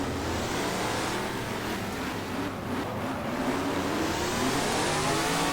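A race car engine in GT Legends revs steadily and loudly at close range, a continuous roaring drone that swells slightly toward the end, with no voices over it.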